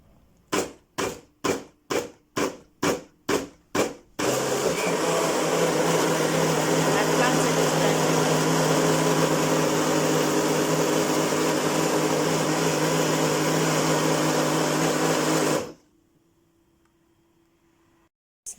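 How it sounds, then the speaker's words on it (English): About eight quick pulses, then a blender blending plantain roars continuously at full speed for around eleven seconds before stopping abruptly, leaving a faint hum. "So guys, it's blending now."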